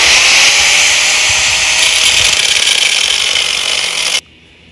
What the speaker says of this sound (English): if you're using an angle grinder, it's way better than using a hacksaw